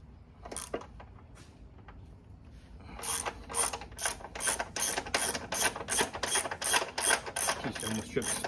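A socket ratchet loosens 6mm bolts on a Honda Dax125 motorcycle, first a few scattered clicks, then a fast regular run of sharp ratcheting clicks in quick strokes, close and clear.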